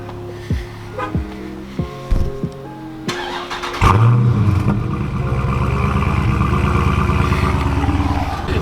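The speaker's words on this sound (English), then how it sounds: "I'm just going to remote start it so you guys can listen to it" A Ford Raptor's engine is remote started: several short electronic beeps and clicks, then the starter cranks and the engine catches with a loud rev before settling into a steady, close, rumbling idle.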